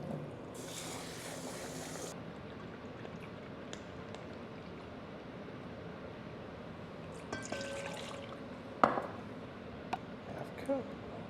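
Water splashes, pours and trickles quietly as sushi rice is rinsed in a kitchen, with soft clinks and faint movement around it and a brief louder knock near the end.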